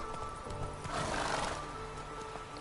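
Roach, the horse in The Witcher 3, gives a clear, fairly close whinny. The neigh rises and trembles across the middle of the short stretch over a steady game-world ambience.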